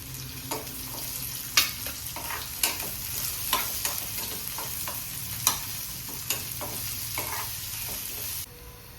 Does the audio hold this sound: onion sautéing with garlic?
yes